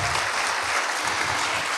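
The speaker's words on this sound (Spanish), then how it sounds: "Eso merece un aplauso al Señor." Congregation applauding the Lord during a Spanish-language Christian church sermon, a steady dense wash of clapping filling the room without pause, fairly distant and even.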